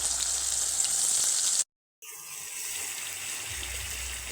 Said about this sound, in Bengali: তেলটা কিন্তু বেশ একটু গরম করেই বেরেস্তা পেঁয়াজগুলো ভাজতে হবে।